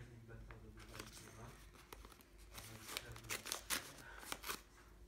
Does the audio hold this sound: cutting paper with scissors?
yes